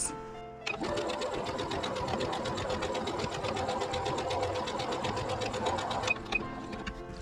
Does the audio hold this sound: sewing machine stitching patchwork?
yes